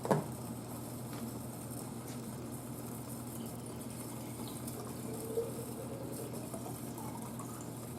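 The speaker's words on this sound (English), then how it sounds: "Fill it up with water." Water runs steadily into a laboratory flask in a quiet room, a continuous low trickle and wash that holds evenly for the full stretch with no one talking.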